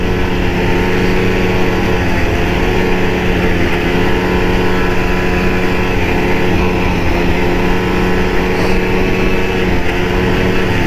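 An Arctic Cat snowmobile engine with catalyst problems runs steadily at light throttle, a loud continuous droning hum with layered tonal bands that barely changes, close up and with no talking.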